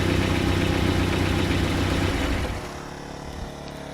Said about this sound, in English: You hear the snow blower over there, my neighbors.